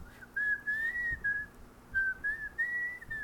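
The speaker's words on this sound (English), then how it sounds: "I always love when I get a successful whistle" A person whistles a wavering melodic tune in two short phrases, close and fairly soft, with a slight pause between them and faint background rumble.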